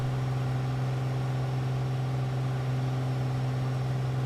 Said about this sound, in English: let me just turn my engine down a bit